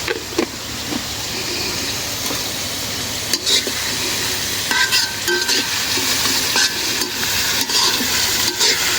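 Onions fry in hot oil with spices and salt, a constant loud sizzle broken by repeated scraping stirs of the spoon against the pan.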